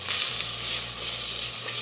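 Onions sizzle and fry steadily in a pot as a batch of meal-prep food cooks, a dense continuous crackle with a low hum beneath, no voices.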